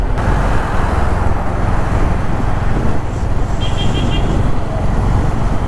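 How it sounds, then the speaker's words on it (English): Honda CB350 motorcycle riding through evening traffic, a loud continuous engine and wind roar with surrounding road noise and no clear talk. "Mr. White, the CB350 is running as smooth as butter"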